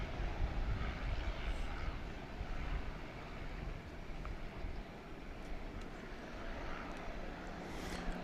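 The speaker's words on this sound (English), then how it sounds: "Martin Air is coming into view with a Super Cargo Master" A Martinair Boeing MD-11 freighter arrives at DFW from Wichita Falls as a steady engine rumble that swells and eases slightly over several seconds, moderately distant, with no voices.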